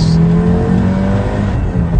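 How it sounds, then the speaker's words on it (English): An Audi's engine revs hard as the car accelerates out of a corner on a track. The loud, steady roar swells without pause and carries throughout, with no talking. "smoothly accelerating out the last corner and across the line"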